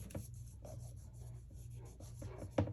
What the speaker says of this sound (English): I'll pull this mint tape off and try to use it again.